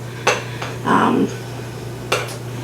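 Ginger being smashed for homemade chicken fried rice: three sharp, close knocks spaced apart, with a short muffled crushing burst between the first two, no talking.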